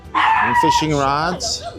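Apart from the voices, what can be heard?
dog barking in a store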